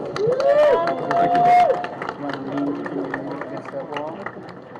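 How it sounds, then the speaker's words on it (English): Crowd applause and cheering for Marquel Bridges at a Justice for Jayland Walker press conference in Akron, steady clapping with whoops and voices mixed in, fairly loud and close. "Round of applause for Marquel, please"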